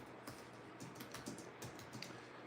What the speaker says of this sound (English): let me just type it up here